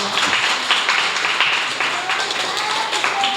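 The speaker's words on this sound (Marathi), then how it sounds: "जोरदार टाळ्या" Steady crowd applause at a short film screening event fills the whole stretch, dense and fairly loud, with no clear breaks.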